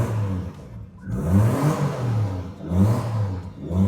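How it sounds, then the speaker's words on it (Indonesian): A Volvo 960 Executive engine revs smoothly in a few rising and falling swells, a close, steady mid-pitched hum with no voices. "Dia dong RPM-nya naiknya juga enak banget, nggak seperti Volvo pada umumnya."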